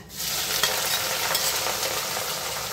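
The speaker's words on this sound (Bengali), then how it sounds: "পেঁয়াজগুলোর হালকা রং চেঞ্জ হওয়া অবধি ভেজে নেব" Thinly sliced onions fry in hot oil after whole spices, a dense, even sizzle with faint stirring scrapes, close and continuous with no voices.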